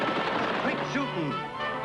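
Gunfire from a 1956 western TV show, a burst of sharp shots under a loud announcer-style voice and music-like tones, brief and dense.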